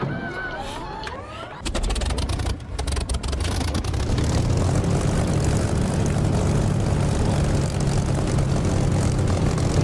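A warbird's propeller engine in the DCS flight simulator catches and settles into a loud, steady roar after a brief whir of startup, holding a constant drone.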